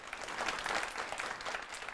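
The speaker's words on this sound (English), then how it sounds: "One more round of applause for all of our panelists up here" An audience at a community conversation on K-12 education applauds its panelists, a short burst of dense, steady clapping from a crowd, fairly close and without speech.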